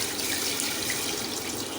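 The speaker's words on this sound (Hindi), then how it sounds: "अब हम इसमें पानी डाल देंगे, तकरीबन 1 जग" A steady stream of water pours and splashes into a metal pressure cooker holding beef, a continuous hissing flow heard close up without any speech.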